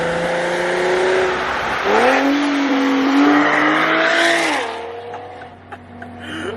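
An Infiniti G37 sedan with a cat-back exhaust and Motordyne resonator revs hard up close, its raspy engine note climbing and falling through several sharp pulls before settling into a lower burble.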